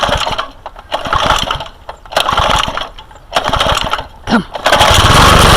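A petrol lawn mower engine pulled into life on a driveway, revving in loud uneven bursts before settling into a steady close roar, with a brief spoken word partway through.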